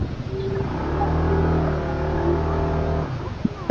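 A car stuck on a steep, washed-out road revs its engine with traction control active as the tyres spin, a steady loud drone holding for about three seconds before dropping off.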